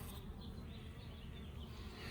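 Honey bees in an open hive in late October in South Alabama, a steady, faint, close-up buzzing hum with no voices over it.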